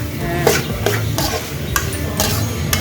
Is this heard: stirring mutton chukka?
yes